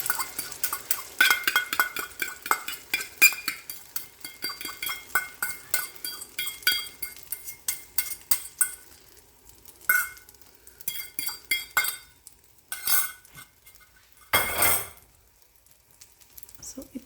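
Egg mixture with green gram being stirred and scrambled in a pan over high flame, with brisk, rapid clinks and scrapes of a utensil against the pan and faint sizzling, loud and close, with short pauses toward the end.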